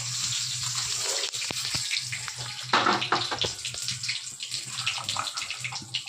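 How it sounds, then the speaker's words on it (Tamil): Mustard seeds crackle and pop densely in hot oil, a steady sizzle with scattered sharp spits, close and continuous with no talking. "கடுகு வெடிக்கட்டும்"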